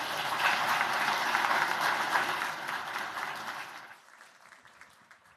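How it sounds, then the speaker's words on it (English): A closing-ceremony crowd applauds finalist teams at a hackathon, with dense, steady clapping that holds for about four seconds and then fades quickly to near silence. "let's give them another round of applause for doing live demos"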